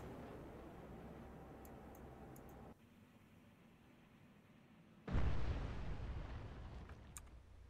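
A missile shot down in the Cold Waters submarine game, heard as a sudden loud broadband blast that rumbles and decays over a couple of seconds after a stretch of low, steady background noise.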